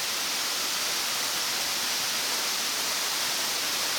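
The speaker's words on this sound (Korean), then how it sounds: "폭포 아래는 물이 발목 정도 깊이라서 누구라도 폭포 마사지를 경험할 수 있다." Steady, loud broadband rush of a roughly 30 m waterfall pouring into a shallow pool in the Palau jungle, constant and close with no other sounds.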